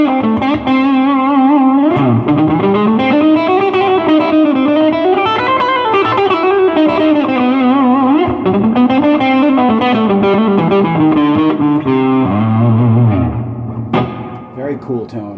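Electric guitar through a Fender Champion 100 solid-state 2x12 combo on the tweed setting with gain turned up, a loud, continuous distorted melodic line with effects and reverb, ending in low chords.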